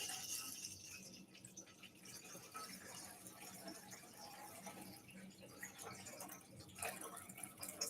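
Water running from a tap into a mixing bowl while weighing it out for a four-loaf sourdough dough, a quiet continuous trickle with occasional drips and splashes, faint and steady.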